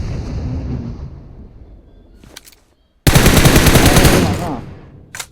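Automatic gunfire in a mobile shooting video game: a long, loud, dense burst of rapid shots cuts in after a quieter stretch of softer game sounds and faint talk, then tails off.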